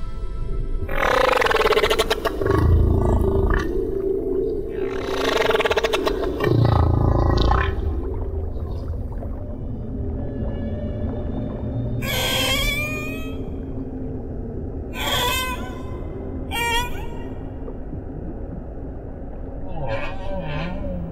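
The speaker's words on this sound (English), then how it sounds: "humpbacks have been singing their extraordinary, complex songs for millions of years" Humpback whale song: deep moaning calls and rumbling groans alternate with higher whooping cries, long eerie underwater song phrases repeating with pauses, under a constant low rumble.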